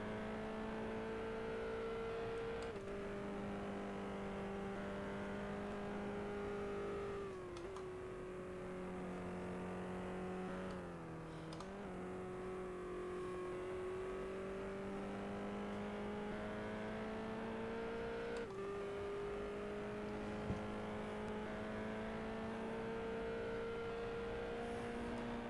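Simulated open-wheel race car engines in F1 Challenge, British F3 2009 series, droning steadily with sustained whining harmonics that dip and rise through gear changes, as several cars duel closely for position.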